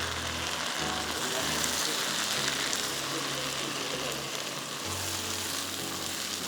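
Four sliced tomatoes sizzling in a frying pan: a steady, dense hiss of frying close by, continuous throughout, with a low hum underneath.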